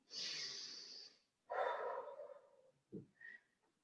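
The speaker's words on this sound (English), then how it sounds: "Last breath, inhale, exhale." Deep yoga breathing during a guided session: a long, airy inhale through the nose, a pause, then a long, breathy exhale, followed by a short snort-like puff and a faint whistle. All of it is close and quiet, with no talking.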